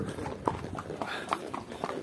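Horse hooves clip-clop during a mountain horse ride in Arkhyz, a run of uneven, moderately close knocks over a faint outdoor background with no speech.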